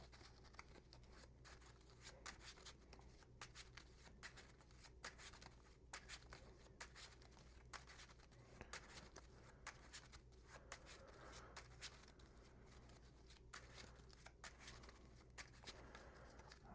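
Playing cards are shuffled during a tabletop card game, giving soft, rapid riffling and flicking bursts in a quiet room with no talk.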